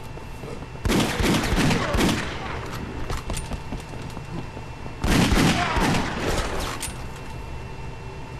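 Gunfire in the action video game Dead Second, two loud bursts of rapid shots about four seconds apart, with a sustained noisy rumble of combat between them.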